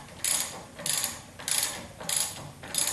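A ratchet wrench clicks through five steady bursts while loosening the rear shock on a 1976 Corvette, each crisp, close ratcheting swing separated by a short pause, with no voices.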